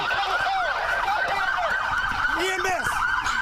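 Emergency vehicle sirens wail loudly and steadily, several overlapping wavering tones sounding close by with no break throughout.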